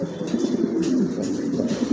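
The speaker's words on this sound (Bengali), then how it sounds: "মাশাআল্লাহ, দেখার মতন এক জোড়া কবুতর" A pair of pigeons coo steadily up close, soft low throaty calls rolling on without pause and no voices over them.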